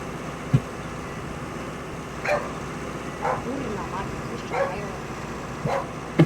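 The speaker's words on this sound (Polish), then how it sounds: "jakieś psy tu szczekają chyba" Dogs barking in the distance during haymaking on farmland, a few short scattered yips and barks, faint over steady machinery noise with a voice speaking.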